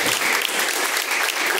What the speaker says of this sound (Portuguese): Palmas que louvam e agradece a Deus.